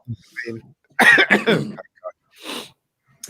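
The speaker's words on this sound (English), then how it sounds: "that's making me cough so much" Several harsh coughs and throat-clearing bursts close by, broken up by short pauses, with a few quiet vocal sounds between them.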